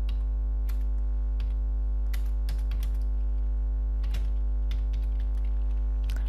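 Typing on a computer keyboard while writing HTML code, a run of close, crisp key clicks in irregular clusters over a steady electrical hum.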